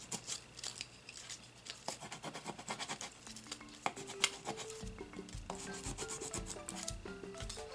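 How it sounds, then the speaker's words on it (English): A printed paper rainbow is rubbed down in place for a baby shower charcuterie board keepsake, giving soft, steady scraping strokes close up, quiet and alone. "So let's burnish this in place."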